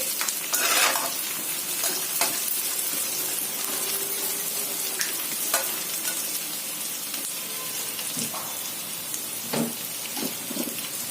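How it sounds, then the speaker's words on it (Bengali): Onions frying in a pan for a Bengali stuffed pointed gourd dish, giving a steady close sizzle throughout with occasional stirring scrapes and clinks. "এরপর পেঁয়াজ ভাজা হচ্ছে"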